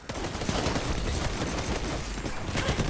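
Pulse rifle fire in the video game Destiny 2 rattles in dense, rapid bursts that run almost without a break, loud and close throughout.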